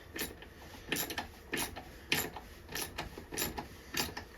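Repeated ratcheting clicks come in short bursts of a wrench tightening a bolt on a Can-Am Ryker sport handlebar. The clicks are close and moderately loud, and there is no talk.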